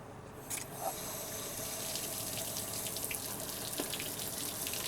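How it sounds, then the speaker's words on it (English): Water from a hose or tap runs in a steady, hissing gush to test the water pump on a Mercury 50 HP two-stroke outboard, constant and fairly close with no talk. "Turn on the water."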